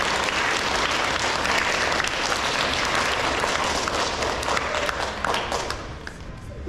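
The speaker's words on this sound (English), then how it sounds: "You may clap now." An audience at an elementary school awards ceremony applauds, a dense, loud burst of many hands clapping that holds steady before fading slightly near the end.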